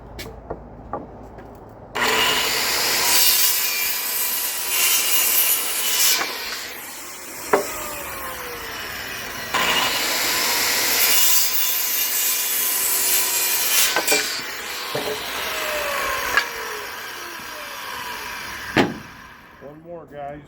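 A hand saw cuts through wooden 2x4 boards while shelving is being built, giving long steady back-and-forth rasping strokes, close and loud, with a pause between cuts and brief talk.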